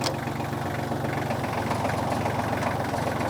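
An engine idles steadily, a low, even chugging hum with a mechanical throb, heard moderately close with no one speaking over it.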